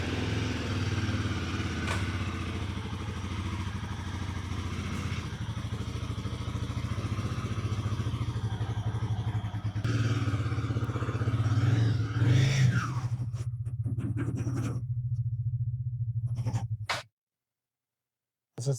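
A motorcycle engine idles and rumbles steadily up close in a garage, briefly swelling as the bike is ridden forward into a front wheel chock, then cuts off abruptly near the end.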